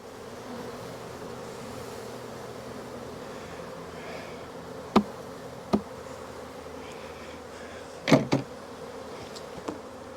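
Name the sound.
honey bees on a Demaree hive's inner cover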